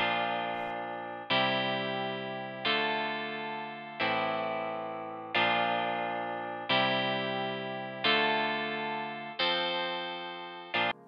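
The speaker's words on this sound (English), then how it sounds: "This part usually has a clean electric guitar, so with no distortion" Clean electric guitar chords ring out one at a time, about every 1.3 seconds, each struck and left to decay, with no distortion and no voices.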